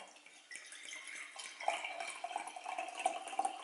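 Non-chlorinated water pours steadily into a container for a ginger bug starter, a soft continuous trickle that swells slightly partway through, close and fairly quiet with no talking.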